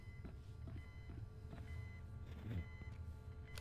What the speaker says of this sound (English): something is beeping here, and I don't know what